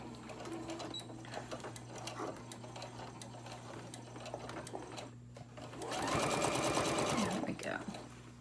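A sewing machine stitching down the sides of a fabric lunch tote bag, a fast steady mechanical whir close by that pauses briefly and then runs louder in a final burst.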